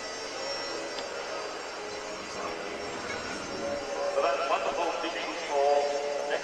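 An aircraft taking off at the 2000 RIAT airshow at Cottesmore, a distant engine roar swelling slightly toward the end, with voices talking over it.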